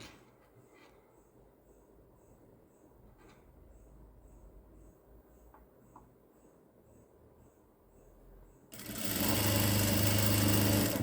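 A sewing machine stitches baby gown fabric, its motor rising into a steady, loud close whir near the end after quieter ticking and faint background noise.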